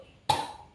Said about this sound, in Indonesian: Dese batuk.